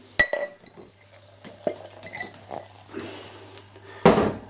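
A bottle of Nøgne Ø porter is opened and poured into a glass, with close clinks and taps of glass, a sharp hiss at the opening, scattered knocks, and a loud burst of pouring and fizz near the end.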